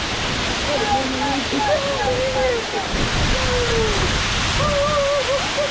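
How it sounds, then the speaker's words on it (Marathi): A large waterfall on the Harishchandragad fort trek in the Sahyadri hills roars as a steady, dense rush of falling water, with voices calling out over it throughout. "तर आलेले आहेत मोठ्या धबधब्यापाशी"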